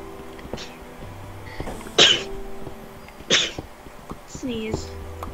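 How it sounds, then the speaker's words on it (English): A couple of sharp, sudden sneezes burst out over casual talk during a Minecraft-style gaming session, each one brief and close to the mic. "Sneeze."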